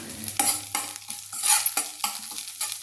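Cumin seeds fry in a pan for jeera rice as a spoon stirs them, giving a sizzling hiss broken by repeated scraping strokes, close and fairly loud, with no voices.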